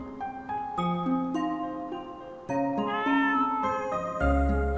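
Cats in the video game Rakuen meow repeatedly in a string of clear, drawn-out calls of varying pitch, close and alone, with a brief game tone near the end.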